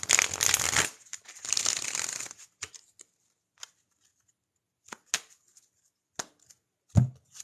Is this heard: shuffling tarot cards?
yes